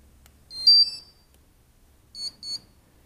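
An ESC (electronic speed controller) on a Tarot 680 drone emits two short bursts of high electronic beeps at power-up, a brief pair followed by another double beep a second later, clear against near silence.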